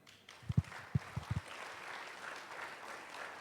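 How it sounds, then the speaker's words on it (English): A conference plenary audience in Bangkok claps in a short burst of a few scattered, distinct claps, then the room falls back to quiet murmuring ambience. "So ready? Clap."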